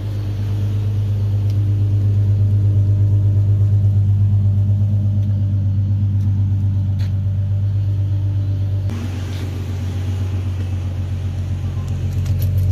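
Infiniti Q70 engine idling cold with a VQ Carbon custom 2.5-inch cold air intake, a steady deep low rumble held close and loud throughout with no revving.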